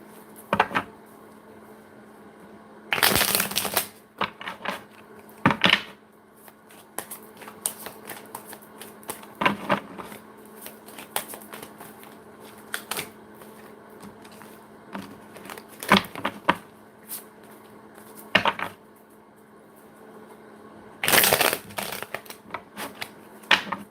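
Tarot cards being shuffled in repeated bursts of riffling and patter, with quiet pauses between, close and fairly crisp.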